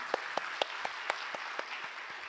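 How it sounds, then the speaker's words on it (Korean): Sparse congregation applause during a Wednesday church service, a few distinct rhythmic claps standing out over a quiet, reverberant room. "하나님께 영광의 박수 올려드리도록 하겠습니다"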